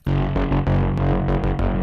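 A sound runs through the Bitwig Studio Distortion device with the mix turned up. It gives a dense, saturated synth-and-drum loop with sharp transient hits at an even rhythm, loud and alone.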